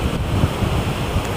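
Wind rushes across the microphone on a beach while low surf rumbles steadily, with no voices present.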